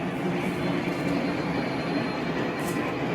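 Lionel model trains running on a large layout at a model railroad, giving a steady dense rolling rumble that fills the whole few seconds, close and fairly loud with no speech.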